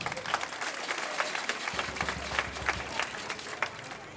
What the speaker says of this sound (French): On peut l'accompagner avec des applaudissements,